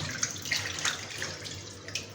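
Running tap water splashes steadily while fish is rinsed clean in a kitchen sink, a continuous near wash with small irregular splashes and no talk.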